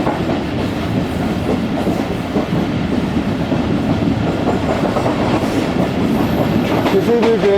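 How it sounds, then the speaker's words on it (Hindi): A train rolls through Tarinda railway station without stopping, heard from inside a carriage as steady wheel rumble and rhythmic clickety-clack, loud and continuous, with a brief high squeal near the end. "रहीम खान चलने के बाद ट्रेन इस वक्त हमारी तरिंदा रेलवे स्टेशन को स्किप कर रही है"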